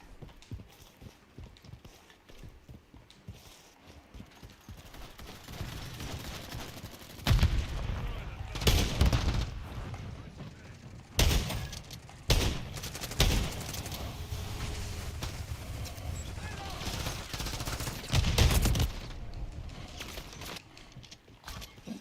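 Gunfire in Call of Duty Modern Warfare III: several sharp, loud bursts of shots scattered through the clip against a busy background of in-game noise.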